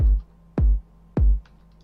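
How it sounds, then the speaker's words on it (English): Synthesized bass drum made in Reason 9.2 for low end punch in a hardstyle kick: three deep, booming hits about half a second apart, each a short punchy thump with a quick decay, alone and clear. "created a standard bass drum which I used for the low end punch."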